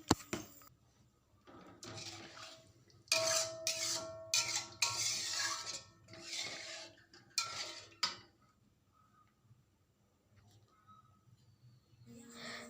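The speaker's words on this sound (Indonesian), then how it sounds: "Lalu aduk lagi sampai bumbunya benar-benar tercampur." Spoon stirring cooked seasoning paste with added water in a pan while making fishless siomay, with bursts of wet scraping and swishing separated by quiet pauses.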